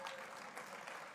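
Brief burst of audience applause at a Statesman event in Oregon, a dense, fairly faint wash of many hands clapping.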